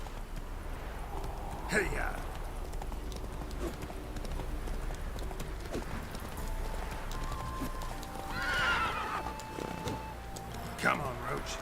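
Roach, the horse in The Witcher 3, clip-clops across the ground with a whinny and neighs rising over continuous hoofbeats, as someone speaks briefly over the game sounds.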